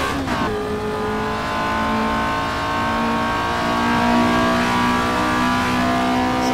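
A race car engine in the Assetto Corsa racing game revs hard and climbs steadily in pitch through a gear, loud and close with no talk over it.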